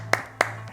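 A few sparse hand claps from a studio audience, two sharp close claps and a fainter third, with a low steady hum underneath.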